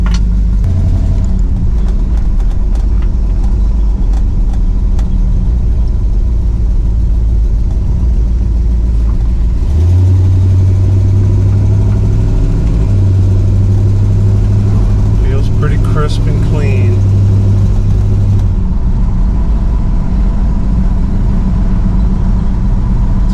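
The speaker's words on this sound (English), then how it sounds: "It's not idling as high, which is good." A car engine idles after a fuel pump problem, a steady low rumble that thickens and holds a droning tone partway through, with a person talking over it.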